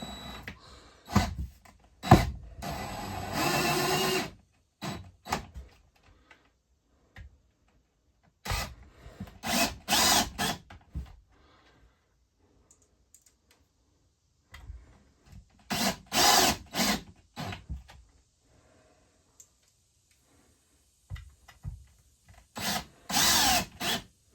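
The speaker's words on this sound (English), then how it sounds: "I want to cinch these down a little bit with the drill" Several short bursts of a power drill driving screws into wood while installing a guitar tremolo, whirring up and down, separated by quiet pauses, close by, with faint scraping between bursts.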